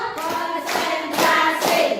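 A classroom group performs a rhythmic clapping pattern, a short chant-and-clap routine where a few sharp clustered clap bursts land in a steady beat, close and fairly loud, with voices mixed in around the claps.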